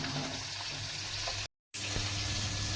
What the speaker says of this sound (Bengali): ছাকনি ঝুড়িতে একবারে ধুয়ে নিলাম যাতে জলটা খুব সুন্দর করে ঝরে যায়